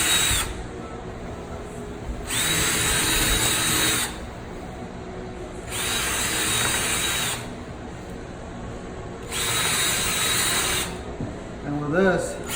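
A power tool whirs in four steady bursts of about two seconds each with short pauses between them, tightening screws into a faux butcher block countertop, followed by a brief clatter at the end.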